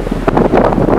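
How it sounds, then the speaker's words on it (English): Strong gusts of wind buffet the microphone outdoors in a loud, rumbling rush that swells and fades in uneven bursts for about a second. "it's just super windy"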